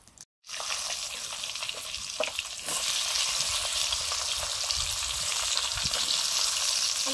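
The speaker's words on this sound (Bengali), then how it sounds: "একসঙ্গেই ভেজে নিচ্ছি" Brinjal and pointed gourd fry together in a pan, a loud, dense sizzle starting after a brief silence and growing steadier and stronger, with occasional stirring clicks and no talking.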